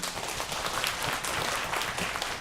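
A church congregation claps together during a Sunday worship service, a steady dense wash of applause from many hands filling the whole moment, with no voices standing out.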